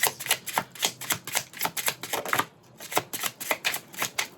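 Alcento Tarot cards being shuffled and pulled, quick papery riffles and snaps in a fast rhythmic run, close and crisp, with a brief pause partway through.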